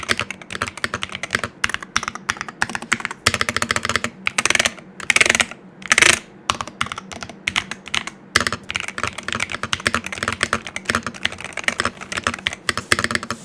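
Rapid, steady typing on a Royal Kludge C68 Hall Effect mechanical keyboard, clacky keystrokes close up with a few brief pauses and occasional louder bursts.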